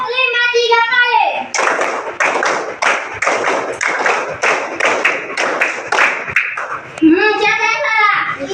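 A classroom of pupils claps a counted 'tepuk 5' pattern three times, a run of sharp, evenly spaced hand claps, with a voice chanting just before and after.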